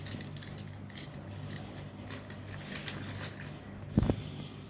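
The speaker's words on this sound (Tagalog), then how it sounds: "Susi ko siguro ng bahay." A bunch of house keys jingles faintly in a room, soft metallic clinks scattered throughout with a brief louder rattle near the end, no voices.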